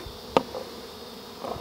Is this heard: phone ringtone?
no